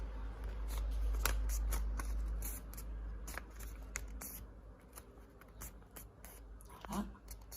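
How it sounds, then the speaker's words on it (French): A sheet of paper being folded by hand up close, with crisp crackles, rustles and sharp creasing snaps repeating irregularly over a low steady background. "vous allez plier le papier. Comme ça, pas dans ce sens-là."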